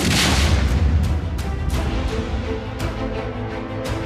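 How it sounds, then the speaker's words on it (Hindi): A heavy, loud explosion opens, followed by several more booms and sharp blasts in irregular succession, echoing over a continuous low rumble, during a security forces' assault on militant hideouts in Kokernag, Jammu and Kashmir. "ये पहला धमाका, ये दूसरा धमाका, ये तीसरा धमाका और ये चौथा"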